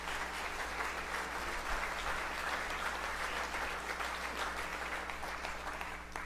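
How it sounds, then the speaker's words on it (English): Audience applause at a downtown partnership annual meeting, a steady, fairly faint wash of many hands clapping throughout, with a low hum underneath. "You guys beat me to the applause"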